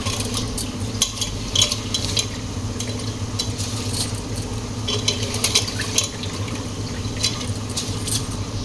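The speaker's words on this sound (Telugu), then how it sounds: "ఇక్కడైతే మా మదర్ రైస్ అయితే యాడ్ చేస్తున్నారు" Rice poured into a pot of mutton soup for pulao, with a steady bubbling simmer and scattered clinks and scrapes of a utensil against the pot.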